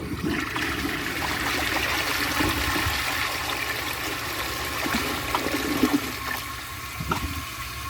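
A 1952 Homart toilet flushes a grocery bag down, a steady rushing, gurgling swirl of water that runs close and loud for the whole stretch with small surges near the end.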